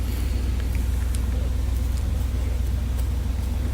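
Feed truck driving up to a pasture of cows and calves on an Oklahoma farm, with a steady low engine rumble close by that holds evenly throughout, with faint clicks and rattles over it.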